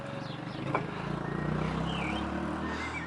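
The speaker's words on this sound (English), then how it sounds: "we've got a noisy car coming. We'll wait for that to pass" A noisy car, an Opel Astra, passes on a nearby street with a steady engine drone that swells and fades over a few seconds, with no talk over it.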